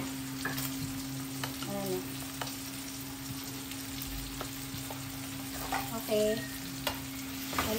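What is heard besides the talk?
stirring and frying pork binagoongan with fresh shrimp paste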